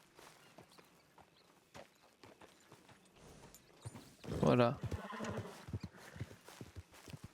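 Hooves clip-clop at a walking pace in the video game Red Dead Redemption 2, and a horse gives a loud whinny midway, with someone speaking briefly over the sounds.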